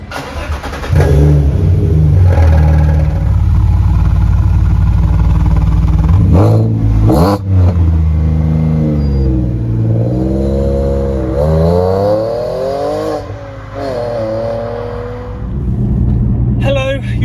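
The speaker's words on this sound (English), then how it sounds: "I have put a very lovely exhaust on it from IWS Developments. However, it does make it quite loud." Alfa Romeo 147 GTA with a loud IWS Developments aftermarket exhaust, starting up and revving hard in several rising and falling bursts, close and very loud, with someone talking between the revs.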